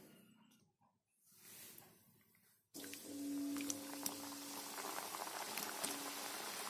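Small diamond-cut pieces of wheat-flour shankarpali dough drop into hot oil, and after a quiet lead-in a loud, continuous bubbling fry begins and carries on steadily to the end.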